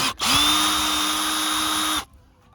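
Power tool removing 10mm bolts and nuts on a BMW F31 during a tail light bulb change, a short tap and then a steady high whine of about two seconds that stops abruptly, loud and close.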